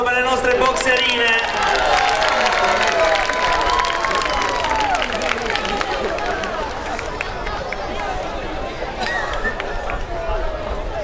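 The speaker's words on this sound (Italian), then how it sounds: "Di nuovo applauso per le nostre boxerine." A crowd applauds and cheers the female boxers at an amateur boxing night, with sustained clapping and chatter mixed with a loud announcer's voice over it throughout.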